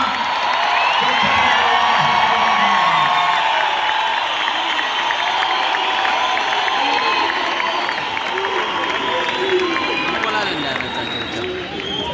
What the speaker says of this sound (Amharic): እናንተ እልልታና ጭብጨባ